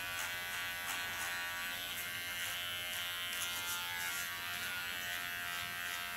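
An electric hair clipper buzzes steadily and loudly up close while cutting a dark grayish straight bob, a constant high-pitched motor whine with slight fluctuations as the blades move through hair, no talking.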